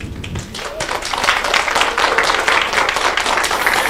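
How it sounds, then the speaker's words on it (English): An audience at a conference in Kenya on digital technology and data for universal health coverage claps together in sustained, dense applause that builds after a brief start and stays loud and even to the end. "Please, let's continue clapping."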